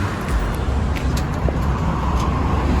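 A 2017 Hyundai Elantra SE engine idles as the car rolls slowly down off a car transporter, a steady low rumble with faint creaks and clicks, no talking.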